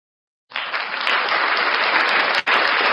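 Applause bursts in abruptly and holds as a dense, steady clatter of many hands, with a brief dip before resuming.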